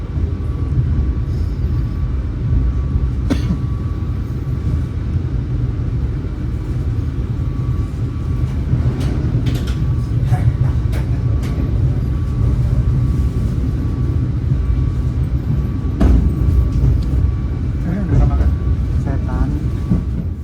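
Steady, loud low rumble of the Gaya Baru Malam Selatan passenger train running after leaving Mojokerto station, heard from inside the carriage with occasional rattles and clanks, while a voice talks over it.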